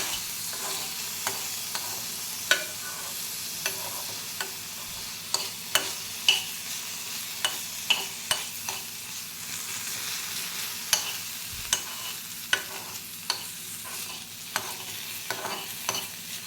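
Onions in a pan of oil are stirred while frying during Maggi noodle preparation, with a spoon scraping and tapping the pan in a loose rhythm over a steady low sizzle. The sound is close and continuous, and no one talks.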